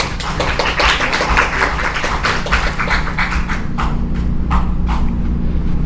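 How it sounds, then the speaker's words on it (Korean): An audience at an academic workshop in Seoul claps together in a dense, steady burst of applause that thins into a few scattered claps before fading out. "박수 부탁드립니다."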